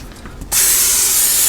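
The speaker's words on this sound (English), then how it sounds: "Now I'm going to spray the inside of that with some kind of cooking spray." Olive oil cooking spray is sprayed into a slow cooker crock pot, a sudden loud, close aerosol hiss that starts after a brief quiet moment and holds steady to the end.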